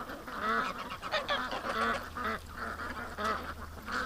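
Domestic ducks honking and quacking near the water, kept close to shore after an otter attack; the calls come in a steady, overlapping run of close, fairly loud honks throughout, with no talking.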